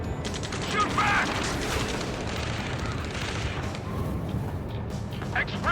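Gunfire rattles through a battle in the Ace Combat 7 video game, a dense, loud, continuous stream of shots and mechanical clatter with occasional heavier bursts, never letting up.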